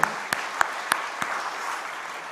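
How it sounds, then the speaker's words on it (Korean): A few sharp, separate hand claps ring out at a church prayer service, sparse and evenly spaced over steady room noise, with no one speaking. "박수 한번 쳐봐요"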